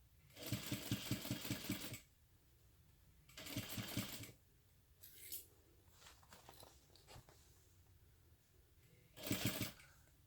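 A sewing machine stitching a crossbody bag, running in three short bursts with quiet pauses between them while the fabric is repositioned.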